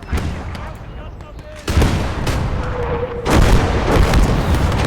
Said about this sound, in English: I think that's our artillery.